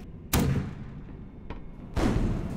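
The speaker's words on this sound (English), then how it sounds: "If you right click, they'll actually explode faster." Explosions in the video game Dystopia, two loud booming blasts a moment apart with a small thump between them, each followed by a rumbling tail.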